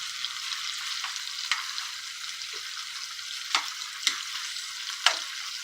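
Shrimp fry in a non-stick pan with a steady, close hiss of sizzling oil, broken by a few sharp crackles and occasional stirring scrapes, no voices.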